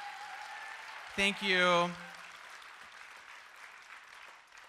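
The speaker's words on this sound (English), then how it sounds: "So one more round of applause for Kate." A conference audience applauds continuously, a soft, distant wash of clapping that carries through the whole stretch while a voice briefly speaks over it.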